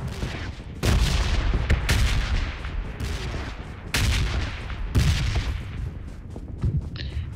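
PUBG Mobile (BGMI) gameplay on the Livik map delivers repeated loud gunshot bursts and booming explosions in quick clusters, close and punchy, with no talk over them.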